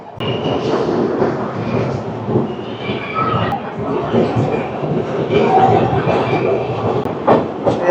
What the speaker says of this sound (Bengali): আমাদের ট্রেন ছেড়ে দিল আসানসোল জংশন স্টেশন থেকে